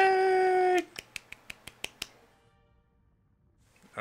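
Hand claps ring out in a quick run of about seven sharp, evenly spaced slaps right after a held tone cuts off, then quiet follows.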